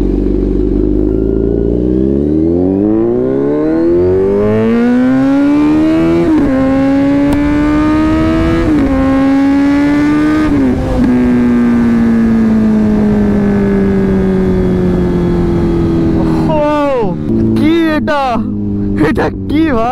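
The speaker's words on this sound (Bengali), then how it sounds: "এই যে ডিবি কিলার ছাড়া অ্যারোর এক্সস্ট দিয়ে চালাচ্ছি" A superbike with an Arrow exhaust and the dB killer removed revs loudly and close, its pitch climbing in stepped pulls, then blipping sharply in quick throttle bursts near the end, with wind noise underneath.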